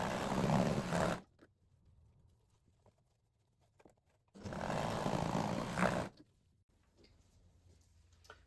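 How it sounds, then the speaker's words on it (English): An overlocker sewing machine finishing the seams of a wrap skirt, running in two separate bursts of rapid, fairly close stitching chatter with quiet pauses between them. "Then we're going to overlock what we've just sewn just to finish the seams."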